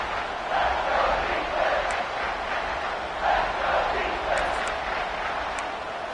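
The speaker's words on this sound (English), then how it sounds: "Third down, and the crowd really getting into it." Stadium crowd in an American football video game swells with a broad, steady cheer across several seconds, rising in small waves on third down.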